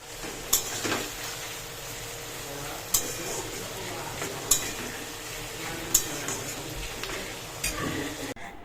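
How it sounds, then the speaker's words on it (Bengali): Prawns stir-fried in a kadai for a prawn biryani, a low, steady sizzle broken by sharp scrapes and clinks of the spatula against the metal pan at regular intervals. "চিংড়ি রান্না প্রায় হয়ে এসছে এটাও মাংসের মতো ভালো করে কষিয়ে রান্না করেছি"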